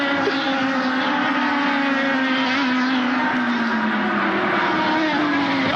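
IndyCar race cars overtake at the 2010 Grand Prix of Alabama, their engines a loud, continuous high whine with pitch sliding as they jostle, and a voice faintly present beneath.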